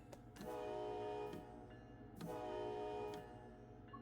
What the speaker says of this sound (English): I quite like the horn on this